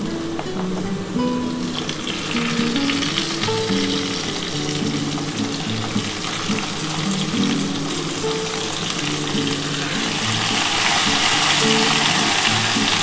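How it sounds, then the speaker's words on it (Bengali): Mixed vegetables for shukto (eggplant, green banana, drumsticks, flat beans and yardlong beans) frying in a pan, a continuous close sizzle with stirring scrapes and faint tonal background hum, growing slightly fuller toward the end. "এবার আমি সমস্ত সবজি দিয়ে দিচ্ছি"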